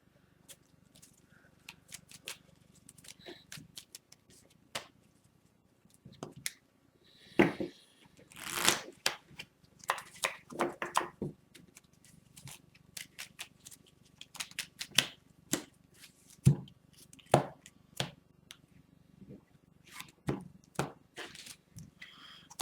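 A deck of Magic: The Gathering cards is shuffled by hand at a quiet table, with irregular bursts of crisp riffling and snapping card sounds spread across a long, otherwise hushed stretch.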